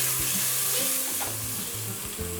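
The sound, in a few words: onions sweating and sizzling in a pot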